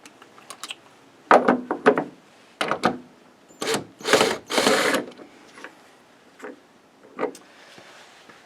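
A wrench works a nut loose on the rear wiper of a 2006 Jeep Grand Cherokee WK, giving close, irregular metallic clicks and ratcheting rasps in short bursts with pauses between them.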